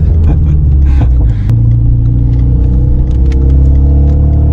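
A 300 hp Renault Mégane RS driving around a race circuit, its engine a loud, steady, close rumble from inside the car, with pitch rising and settling slightly as it accelerates.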